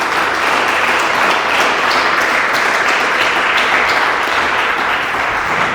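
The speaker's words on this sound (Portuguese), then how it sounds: "Aplauda o Senhor, aleluia!" Congregation applauding in praise during a church service, a dense, loud, continuous wash of clapping that holds steady throughout with no voices standing out.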